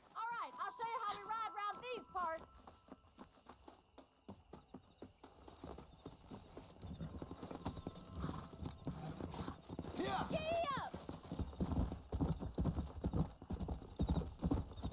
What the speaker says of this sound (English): ahora hay carreritas de caballo